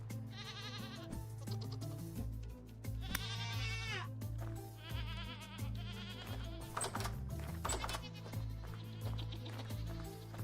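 Male goat in the survival game Vintage Story bleating repeatedly, wavering nasal cries over a steady low game hum and background music, fairly close and loud throughout.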